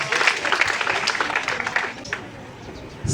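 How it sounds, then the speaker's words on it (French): Students applaud at an official exam-session launch ceremony, a fairly loud crowd clapping that thins out toward the end before a final burst. "Chers élèves, je vous prierai d'applaudir très fort"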